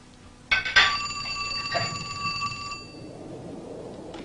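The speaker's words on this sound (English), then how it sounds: "Mary Meredith of Oklahoma City recreates the night she purportedly received a phone call from the dead" A telephone rings once in a dramatized late-night scene, a sharp metallic bell peal that starts suddenly, holds for about two seconds, then fades into quiet room noise.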